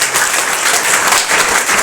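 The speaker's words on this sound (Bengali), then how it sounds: "তাহলে প্রথম সৈনিক অর্থাৎ ফার্স্ট সোলজারের জন্য একটা বিরাট বড় হাততালি।" Loud, sustained clapping from a gathered group at an ITI training-institute ceremony in Bankura, honouring the first soldier chosen; dense and steady throughout the short burst with no voices.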